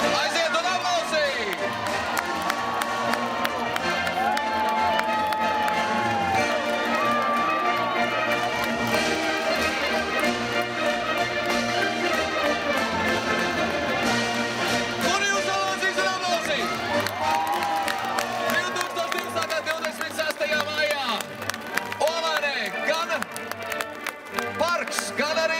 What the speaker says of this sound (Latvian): Aiziet un aplausī!